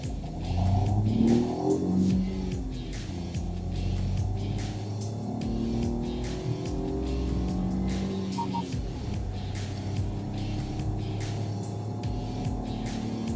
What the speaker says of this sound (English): We will just do a pull and show you how fast you can reach the triple digit speeds